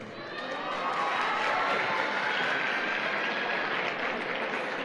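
An audience at a seminar session claps steadily. The dense, continuous wash of applause swells within the first second and then holds loud and even without pause.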